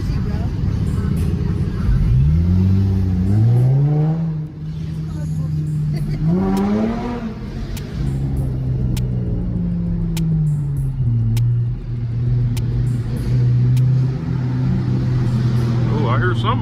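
A car engine revs up and down in rising and falling sweeps, loud and close, while people talk over it.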